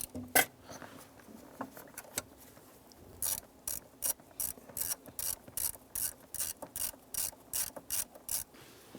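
Someone undoes a screw on a 1995-2001 Ford Explorer dash gauge cluster. Soft handling sounds give way to a rapid, regular series of sharp ratcheting clicks, close and fairly loud, repeating about twice a second.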